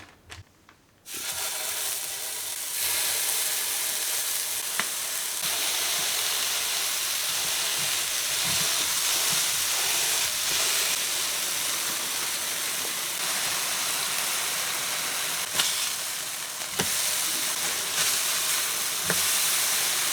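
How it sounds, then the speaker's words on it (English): Loud, steady sizzling hiss of burger patties frying on a hot griddle, continuous and close, with a few small pops and crackles throughout. "Hopefully you can hear me over the sizzle"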